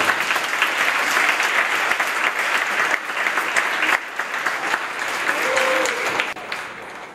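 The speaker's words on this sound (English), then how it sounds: "Let's hear it for Diane Dahl and David Lee" Sustained audience applause at a company employee talent show, steady and fairly loud throughout, a crowd clapping together with no speech over it.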